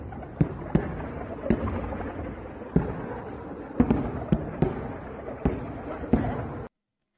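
Incendiary munition dropped by Russian forces on Volodar in wartime, heard as a string of sharp distant bangs and crackles spaced irregularly over a steady rumbling background, with no voices.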